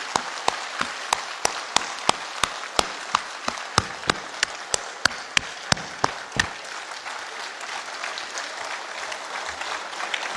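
A room at a Nepali Communist Party (Maoist Centre) convention organising committee meeting applauds: first a run of loud, evenly spaced clapping in unison, then a sustained, softer wash of scattered applause.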